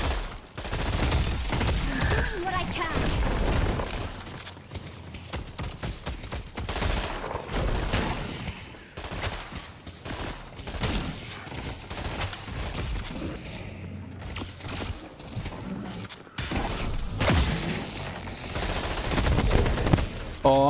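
Dense, continuous automatic gunfire and explosive impacts during a match of the video game Deadlock, loud and sustained throughout with only brief dips.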